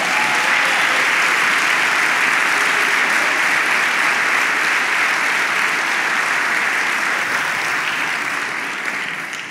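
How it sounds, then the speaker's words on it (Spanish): A church congregation claps loudly and continuously for nearly ten seconds, a dense, even roar of applause that tapers slightly at the end. "Dele un aplauso al Señor."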